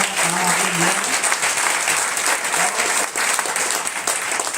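Sustained applause from an audience at a talk, a dense continuous clatter of clapping hands with a few voices murmuring beneath it.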